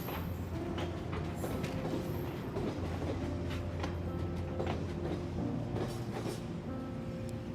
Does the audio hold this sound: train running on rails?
yes